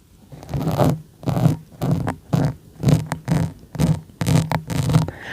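Rhythmic scratchy strokes of a pen on paper, about eight bursts in a steady pattern, close and fairly loud, with no talking.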